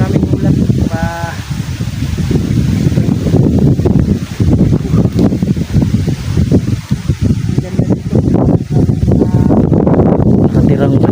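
Strong, roaring wind buffets the microphone on a high hilltop, gusting without a break throughout, with someone talking over it.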